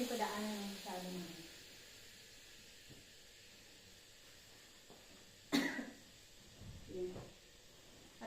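A few coughs break through low background hiss, with a sharp burst midway and softer rough sounds after.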